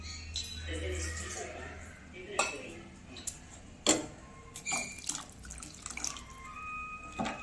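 Water is poured into kuzhambu simmering in a pan, a soft splash amid utensil clinks and pan knocks, under a speaking voice.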